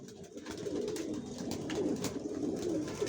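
Original racer pigeons of the Johnson line, kept in a loft for sale, coo in soft overlapping low rolling calls, fairly close and moderately quiet, with a few faint higher chirps and light rustling.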